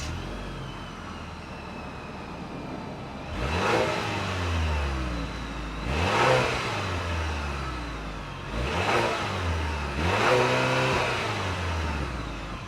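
A 2025 Buick Enclave's 2.5-liter turbocharged four-cylinder engine idles and is revved four times, each rev rising sharply and falling back to a steady idle, close and loud with no talking.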